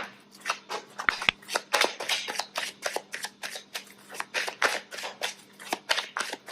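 Tarot cards are shuffled close by in quick repeated riffles, a rhythmic series of crisp flutters and soft slaps with short pauses between them, quiet and free of talk.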